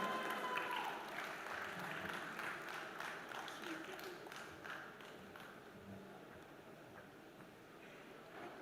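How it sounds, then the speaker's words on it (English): A conference audience applauds to welcome a technology director onto the stage: a broad, steady wash of clapping from a large crowd that starts fuller and slowly tapers, heard at a moderate distance. "Let's welcome her with a thunderous round of applause."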